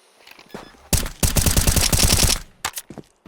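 Rapid automatic gunfire from a bomb-defusal shooter video game, a loud dense burst lasting over a second followed by a few scattered single shots, with faint talk at the start.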